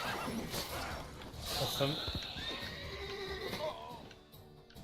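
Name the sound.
horse neighing in The Witcher 3 video game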